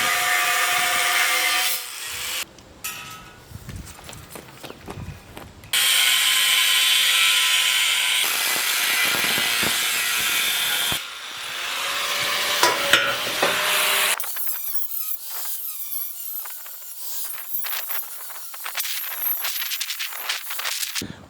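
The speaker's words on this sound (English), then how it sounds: "I'm gonna start getting these pieces measured and cut up and grind them down a little bit on the ends" Rusted steel pieces for a homemade dirt screener being cut and ground with inexpensive Harbor Freight tools, loud sustained abrasive grinding and cutting in long passes broken by pauses, scrapes and clanks, no talk.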